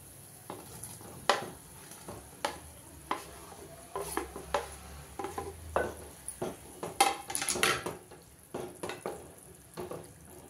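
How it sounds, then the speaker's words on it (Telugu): Okra tamarind stew simmers in a pot, with irregular stirring scrapes and clinks of a utensil against the metal and faint bubbling between them. "పులుసు మంచిగా మరుగుతున్నది"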